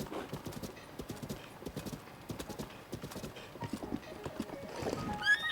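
Oversized horse hooves clip-clop in a steady gallop in Zelda: Tears of the Kingdom, with dense overlapping beats and a brief whinny-like rise near the end. The game ambience sits underneath.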